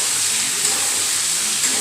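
Ingredients sizzle and hiss in a pan during a brief stir-fry before Malabar spinach goes in, a close, even frying noise with a couple of faint knocks.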